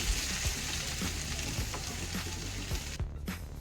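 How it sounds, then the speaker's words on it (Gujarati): Thick Gujarati kadhi, a yogurt curry, bubbling and sizzling steadily in a pot, with soft popping bursts over a constant hiss, close and fairly quiet, no voices. "તો તમે જોઈ શકો છો કઢી પણ આપણી એકદમ મસ્ત ઉકળી ગઈ છે, ઘાટી થઈ ગઈ છે"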